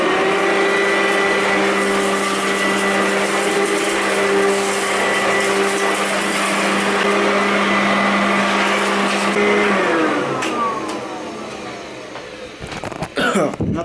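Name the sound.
vacuum cleaner running, sucking up dirt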